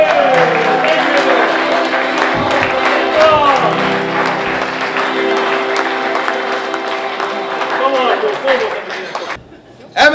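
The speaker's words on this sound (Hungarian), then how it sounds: "Egy hatalmas tapsal köszöntjük az ifjú párt!" Guests at a wedding applaud the newlyweds in loud, dense clapping mixed with crowd chatter and cheering, sustained for several seconds before cutting off sharply near the end.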